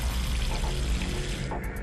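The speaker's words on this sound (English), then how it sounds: "And now to turn on the water" Water gushing from a tap into a plugged sink in the video game Zero Time Dilemma, a steady close rush that eases slightly near the end.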